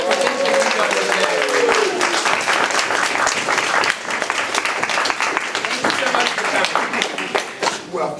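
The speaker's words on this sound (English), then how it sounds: "Can we have a big round of applause for Bishop Jackson?" A room audience gives a big round of applause for Bishop E.W. Jackson, a guest speaker, with dense sustained clapping filling the whole stretch at a steady loud level and some faint voices mixed in underneath.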